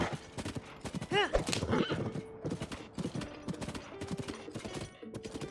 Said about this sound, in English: Horsey.